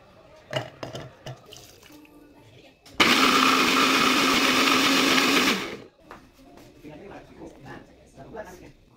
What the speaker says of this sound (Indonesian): Kupas 7 siung bawang putih, cuci bersih, kemudian blender hingga halus.